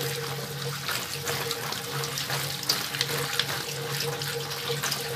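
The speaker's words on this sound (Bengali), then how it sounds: "পানি দিয়ে খুব ভালোভাবে ধুয়ে ঝরানে রাখতে হবে।" Tap water pours steadily over cut raw mango pieces being washed, a close, continuous splashing rush with a faint hum underneath and small irregular spatters.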